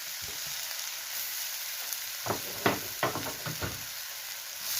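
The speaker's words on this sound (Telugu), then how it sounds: "నెయ్యి వేడెక్కింది ఇప్పుడు అందులోని ఈ గుమ్మిడికాయ ఇది వేసుకోవాలి" Pumpkin pieces hitting hot ghee in a pan, a steady close sizzle with a few sharp crackles and spoon scrapes as they settle into the fat.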